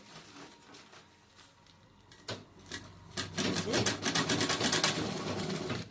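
A home sewing machine stitching a bag, its rapid mechanical whirring rising after a few quiet handling sounds and running steadily close by for the final seconds; the machine has a fault that keeps snapping the thread.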